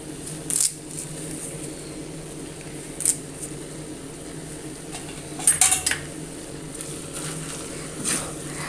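Chicken chukka being stirred with curry leaves in a pan, a low steady background with a few sharp metallic scrapes and clinks of a utensil against the pan at irregular moments.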